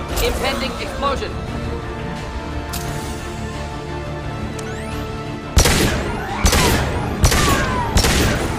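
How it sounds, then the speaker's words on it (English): Explosions and gunfire in the video game Mass Effect, a run of rapid blasts and booming hits with sharp bursts near the end, loud and over game voices. "Impending explosion."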